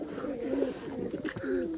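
Native Bangladeshi racing pigeons coo up close, a continuous throaty warble of overlapping rolling notes that holds steady and fairly loud throughout.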